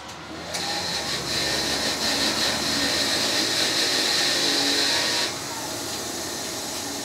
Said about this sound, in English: They're a little bit on the dirty side so I'm just going to hit them with my wire wheel real quick